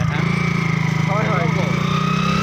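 A motorcycle engine idles with a steady, throbbing putter, and a voice briefly murmurs over it.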